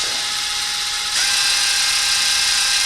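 A DeWalt impact driver, DCF887-series, spins up and runs at full speed in mode 1, its high whine shifting pitch and growing louder after a second, then holding a steady buzzing drone close by.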